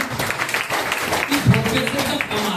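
An audience at an indoor gathering claims steadily for a woman teacher who has just told a story, a dense patter of hands lasting a few seconds, with voices talking over it.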